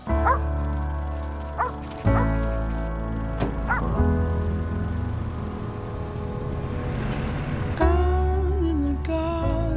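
Over loud, continuous music, a dog gives a few yips and barks, with some speech mixed in.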